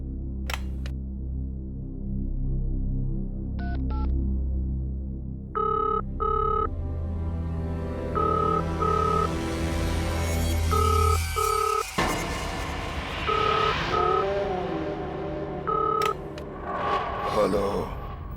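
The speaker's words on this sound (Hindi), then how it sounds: "रिसेप्शन पे फोन करता हूँ, कोई तो होगा वहां।" A telephone rings through to a hotel reception in a horror drama, sounding as short repeated electronic beeps and tones over a low hum and tense background music.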